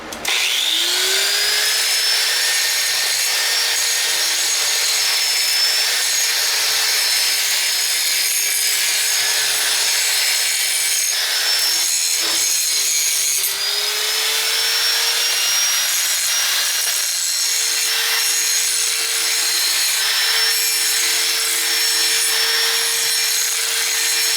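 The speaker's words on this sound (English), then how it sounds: "I've got now is just a grinder with one of those hard fibrous disc wheels on it, and I'm just going to grind the edge" A handheld grinder fitted with a hard fibrous disc wheel grinds along a metal edge, a steady loud high-pitched whine with shifting pitch as pressure changes, continuous for over twenty seconds with no talking.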